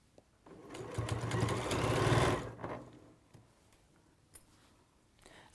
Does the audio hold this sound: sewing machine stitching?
yes